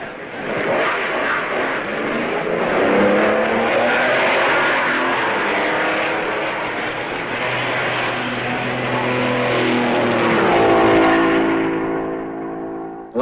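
A 1955 Formula 1 Maserati leaves the pits at the Belgian Grand Prix after plug trouble, its engine a loud, sustained roar whose rising tones climb and sweep upward toward the end as it pulls away.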